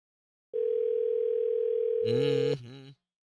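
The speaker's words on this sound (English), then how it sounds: "Oh, it's ringing." A single steady electronic phone tone sounds for about two seconds, then a voice briefly cuts in over it before everything stops.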